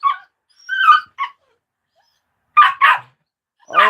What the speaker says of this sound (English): Oh, Honeybee barking at Odie.